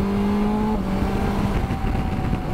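Engine of a 2021 BMW S1000XR touring motorcycle revving up close, a loud sustained droning growl with shifting pitch and no talk over it.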